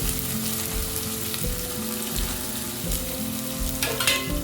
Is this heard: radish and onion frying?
yes